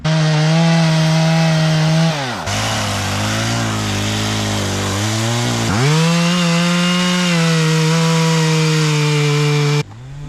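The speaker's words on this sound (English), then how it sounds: "He found some good timber up here and he wanted Dad to come up next to it so we could cut it up." A chainsaw cuts timber for firewood near a beach creek, running loud and close with a steady engine drone that bogs down in pitch under load for a few seconds, then revs back up.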